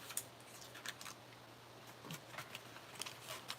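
Sharp scissors cut a light vellum pumpkin shape with faint, scattered snips and small papery ticks over a quiet room hum, and no talking.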